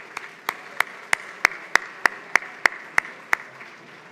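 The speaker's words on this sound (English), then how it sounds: "A round of applause for Rabbi Rosenfeld, and Mrs. Rosenfeld stood by your side." Evenly spaced hand claps ring out at a tribute dinner, about ten sharp beats in a steady rhythm over a faint room hush, with no talking.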